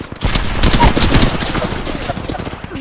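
Gunfire in the battle-royale game Apex Legends: rapid bursts of automatic shots fired close and loud, with sharp cracks repeating across the whole stretch.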